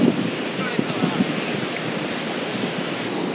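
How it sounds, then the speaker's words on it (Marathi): Water crashes and churns continuously at a waterfall near the Kedareshwar temple, a broad steady roar with wind buffeting the microphone. "किती जबरदस्त पाणी खाली पडत आहे"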